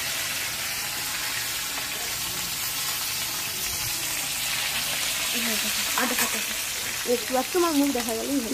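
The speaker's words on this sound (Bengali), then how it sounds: "মাছগুলো ভেজে নিচ্ছে মা ভালোভাবে, এপিট ওপিট করে।" Fish frying in hot oil in a pan and being turned over: a loud, steady crackling sizzle throughout, with a voice talking faintly over it toward the end.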